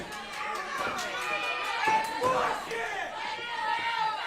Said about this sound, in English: Fans are cheering. This place is up crazy.